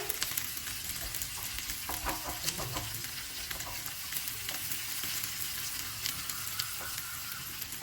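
Onions frying in ghee for biryani crackle and sizzle loudly in a close pan, a dense continuous hiss scattered with sharp pops and the scrape of a spoon stirring now and then, with no one speaking.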